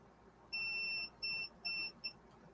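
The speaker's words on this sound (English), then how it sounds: "I'm going to go ahead and cut that off for a minute because that's going to keep beeping" A tumbler heat press machine gives three long electronic beeps and a short fourth, steady and tonal over a quiet room hum.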